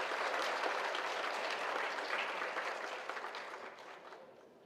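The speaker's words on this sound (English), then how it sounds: "I hope you will give them a big round of applause for what they have done" Sustained audience applause at a university conference's closing valedictory session, a dense wash of many hands clapping that slowly tapers off toward the end.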